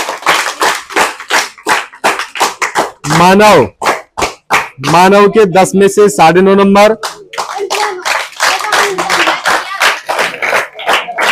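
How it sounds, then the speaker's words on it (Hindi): Students in a classroom clap in sharp, rapid bursts, loud and close, interleaved with a teacher announcing test marks and with children's voices cheering. "तालियां बजाओ।"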